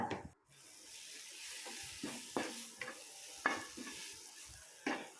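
Ground paste being stirred into sautéed gongura leaves in a pan, quiet sizzling under occasional soft scrapes and clinks of a spoon, faint and close.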